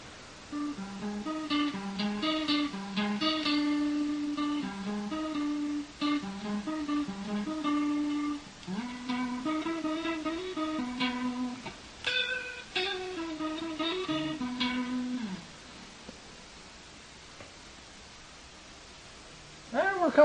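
An electric guitar plays a melodic line through a Line 6 M5 stompbox modeler's swirling, wavering rotary speaker effect for about fifteen seconds, then fades to quiet hiss.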